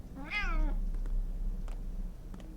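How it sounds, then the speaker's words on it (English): A single cat meow with clear rising-falling harmonics, rising out of the ambient soundscape of the video game Pathologic 2, followed by faint background clicks. "I keep hearing cats, but I don't see cats."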